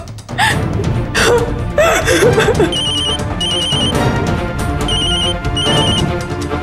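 A telephone rings in repeated bursts of high electronic trills during a tense domestic scene, with gasping, whimpering voices and background music underneath.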